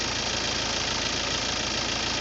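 A Mazda 3 car engine idles steadily, a constant mid-level hum with a faint rhythmic knock and vibration, moderately quiet and uninterrupted.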